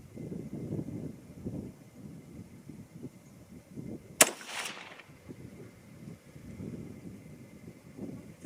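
A single sharp crack from a 6mm ARC rifle at a target range, with soft wind noise before and after the shot.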